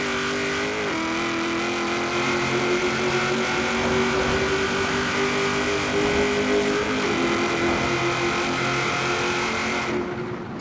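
Supercharged 6.2 litre V8 in a custom 601 hp blower-equipped Sandman cruiser from Forza Horizon 3, a loud continuous engine drone with a steady tone and brief pitch shifts near the start and around seven seconds, cutting off at the end.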